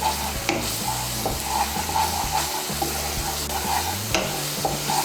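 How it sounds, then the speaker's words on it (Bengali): Powdered spices and a spice paste are stirred in a pan for masala soybean, with a sizzling fry under repeated rhythmic scraping strokes of a spoon, close and fairly loud. "গুঁড়ো মশলাগুলোকে ভালো করে মিশিয়ে নেব।"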